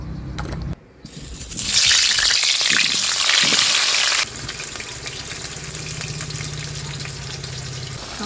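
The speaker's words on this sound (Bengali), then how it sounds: "তেল দিচ্ছি কড়াই।" Oil heating in a kadai (wok) bursts into a loud, close, hissing sizzle after a short pause, holds for a few seconds, then drops to a quieter steady crackle with a low hum underneath.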